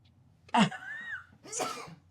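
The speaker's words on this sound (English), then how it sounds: "Oh, I gotta sneeze." A single sneeze, a sharp wind-up followed by a forceful burst, close and fairly loud in a quiet room.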